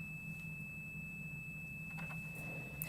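A steady high-pitched tone from a Commodore 64 loading a game tape holds unbroken over a low electrical hum, continuous and moderately quiet.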